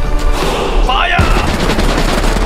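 Gunfire from an action film trailer: a loud, dense burst of shots over a booming score, with a shouted command cutting in partway through.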